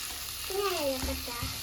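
Onion, ginger and chili sizzling in hot oil in a home kitchen, a steady hiss with a few stirring scrapes, while a voice speaks over it briefly.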